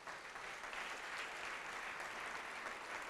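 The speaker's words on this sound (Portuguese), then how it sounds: "Vamos aplaudir mais ao nome de Jesus." A church congregation applauding during a sermon, a continuous even roar of many hands clapping at moderate volume, with no voices over it.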